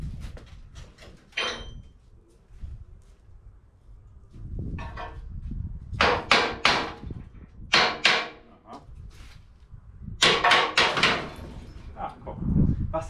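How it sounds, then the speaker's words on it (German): A hammer strikes the slewing ring of a tipper truck in a workshop, landing in several sharp, ringing metallic blows in irregular clusters between quieter stretches. "Was dann so ein paar Hammerschläge ausmachen, ne?"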